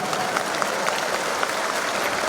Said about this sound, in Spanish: Un aplauso para el hermano Cachorro.